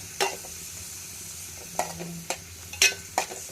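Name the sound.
stirring ridge gourd roast frying in pan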